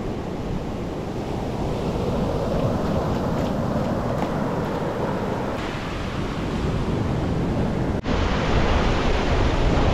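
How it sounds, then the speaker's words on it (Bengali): Large high-tide waves at Bagda beach roll in continuously, a loud, broad, unbroken surf roar with wind buffeting the microphone and no voices. "বেশ বড় বড় ঢেউ আসছে, এখন জোয়ারের টাইম।"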